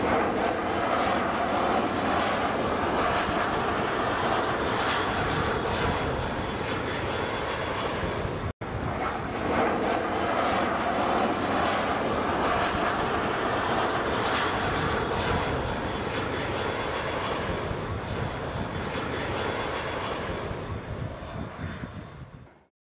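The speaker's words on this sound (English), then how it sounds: "Airplane from Heathrow is going to pass behind this banner, this billboard." A jet airliner out of Heathrow roars past overhead above Piccadilly Circus in London, a loud, steady broadband engine rumble that holds for about twenty seconds before fading at the end, with no voices.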